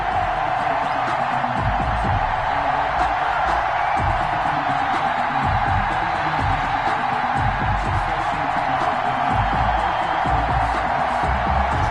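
A steady roar from a stadium crowd fills an NFL kickoff in a PS4 football game between Kansas City and the Atlanta Falcons, a constant dense wash of cheering with no breaks.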